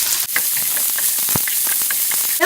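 A large onion and a green chili, both finely chopped, fry in hot oil in a pan with a steady, close sizzle and occasional stirring clicks. No voices are heard.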